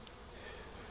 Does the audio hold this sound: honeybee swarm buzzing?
yes